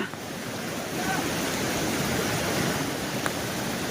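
Floodwater roars through a breached embankment on the Ojat river in the Gher area of Gujarat during heavy monsoon rain, a loud, steady, broadband rush that swells slightly after the first second and carries no voices.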